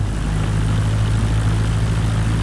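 A Cessna 172 taxis with its propeller engine running in a steady, loud, close drone and no talking.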